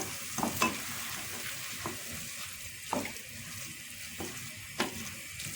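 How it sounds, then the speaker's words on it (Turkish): Bulgur mixed with a pepper and tomato paste sauce in a sizzling pan: a low sizzle under about half a dozen distinct scraping stirs spaced a second or so apart. "kalan bulgurumuzu da ilave ettik. Şöyle güzel bir karıştırıyoruz. Sosumuzla bulgurumuzu."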